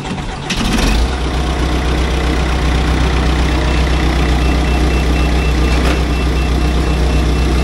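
A John Deere fire dozer engine cranks and catches after a brief moment, then runs at a loud, steady, close idle with a constant low rumble.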